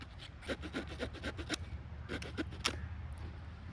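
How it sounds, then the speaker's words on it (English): A small Swiss Army knife saw cuts through a wooden limb, quiet close rasping strokes in a quick back-and-forth rhythm, with a brief pause midway before the sawing resumes. "These little saws on the Swiss Army knives work work real well, honestly."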